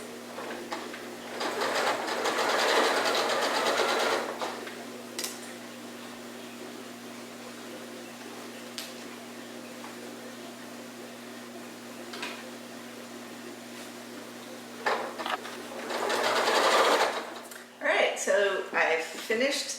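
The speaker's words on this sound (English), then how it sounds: "I'm going to go to the sewing machine and I'm going to sew these and these all together" A sewing machine stitching quilt block pieces together runs in two bursts, one of a few seconds early on and another near the end, each a steady, rapid mechanical whir. A person speaks between and around the bursts.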